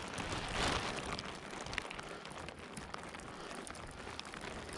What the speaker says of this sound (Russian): Дождик вроде бы чуть успокоился.